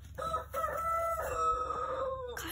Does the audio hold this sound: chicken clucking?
yes